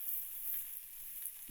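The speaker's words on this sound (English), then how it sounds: "Frying for about 2 minutes, time to flip them onto their other side." Food sizzles steadily in a frying pan partway through cooking, a continuous close crackle with no voices, ending in a brief soft clatter.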